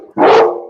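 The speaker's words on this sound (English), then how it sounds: "technically a mutt, but mostly black lab" A black lab mix dog gives one loud, close bark, a short sharp burst that tails off quickly, with no talking over it.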